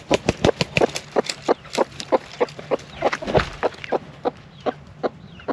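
A broody hen clucks in a rapid, repeated series of short sharp notes, close by, the rhythm steady with a few quieter gaps.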